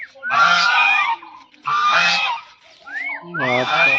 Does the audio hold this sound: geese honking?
yes